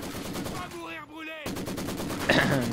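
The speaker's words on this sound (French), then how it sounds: "Voilà, je tire sur lui." Sniper and rifle fire in the video game Company of Heroes 2, with rapid bursts of automatic gunfire and sharp shots in a busy battle mix, plus a brief voice line partway through.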